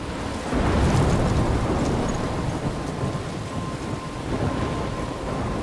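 A thunderstorm in the Life Is Strange video game, with steady heavy rain and a loud roll of thunder that swells near the start and rumbles on under the downpour.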